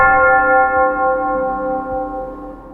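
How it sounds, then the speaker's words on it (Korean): A bell rings out with long sustained metallic tones that slowly decay, steady and fairly clear with no other sounds around it. "바람, 먼 곳에서 울리는 종소리,"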